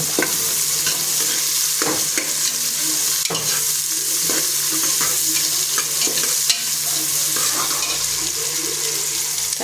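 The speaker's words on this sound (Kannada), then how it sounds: "ಉಳ್ಳಾಗಡ್ಡಿ ಹಾಕ್ತೀನಿ ರೀ. ಉಳ್ಳಾಗಡ್ಡಿ ಸ್ವಲ್ಪ ಕೆಂಪಗಲ್ಲಿ ಫ್ರೈ ಆಗಿ" Chopped onions fry and sizzle steadily in a pan for chicken biryani, with a spoon scraping and stirring in repeated strokes over the continuous hiss, close and fairly loud, with no talking.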